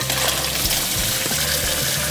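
Water pours from a pot of cooked pasta as it is drained for carbonara, a steady close splashing and gurgling stream lasting throughout.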